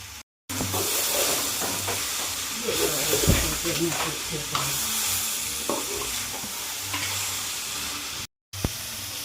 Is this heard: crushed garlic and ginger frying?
yes